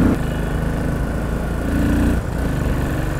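Royal Enfield Continental GT motorcycle engine pulling hard under acceleration, a steady loud mid-pitched thump near the microphone that briefly dips around two seconds and then carries on.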